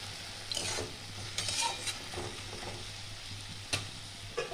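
Jute leaves being stirred in a pan as they cook, with soft scraping sweeps of a spatula and occasional metal clicks over a low background hum and faint sizzle, quiet and close, with no speech.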